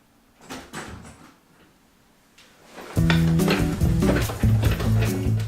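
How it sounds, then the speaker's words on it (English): A door is opened and shut with a couple of quick knocks and clunks, then loud music swells in and plays on. "it's actually me that opens and closes the door"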